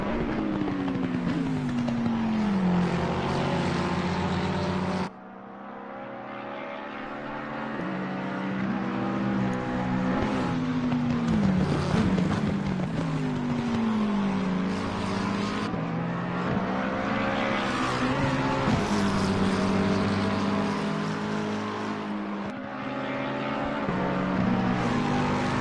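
McLaren and Lexus race cars roar along the Mount Panorama mountain straight at a 12-hour event, engines droning loud and continuous with rising and falling pitch as they run nose to tail, one car slipstreaming the other.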